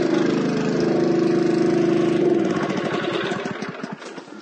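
A rinse pump drives water through a chemical tote rinsing stack and out to a sprayer, giving a steady, fairly loud motor drone with a held tone that later breaks into a pulsing, sputtering rhythm and eases off toward the end.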